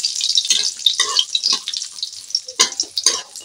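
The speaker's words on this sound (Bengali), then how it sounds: "বড়িটা আমি লাল করে ভেজে নেব।" Bori lentil dumplings frying in hot oil in a kadai, with soft crackling sizzle and scattered sharper bursts of spitting, close and moderately loud, no talking.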